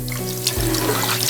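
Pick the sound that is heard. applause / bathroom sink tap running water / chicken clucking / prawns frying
bathroom sink tap running water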